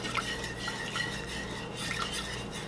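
Warmed milk pours into a saucepan for macaroni and cheese, a steady close liquid trickle with soft splashes and faint clinks, alone without talk.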